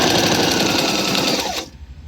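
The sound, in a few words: Singer 1304 sewing machine stitching large stitches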